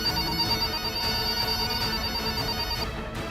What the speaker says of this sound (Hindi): तभी थाने के लैंडलाइन फोन की घंटी बजती है।